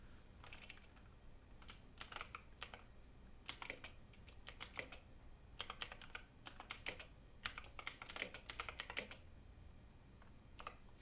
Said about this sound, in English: I'm just gonna try typing something here.